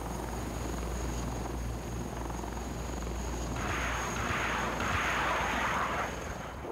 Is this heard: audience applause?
no